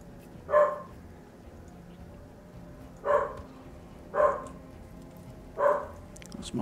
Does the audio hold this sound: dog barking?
yes